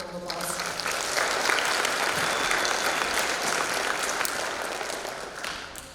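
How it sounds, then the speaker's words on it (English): A school jazz festival audience applauds student musicians with a full, even round of clapping that swells and then tapers off over several seconds. "So let's give them a round of applause."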